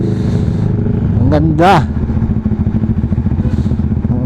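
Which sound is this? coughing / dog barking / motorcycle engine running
motorcycle engine running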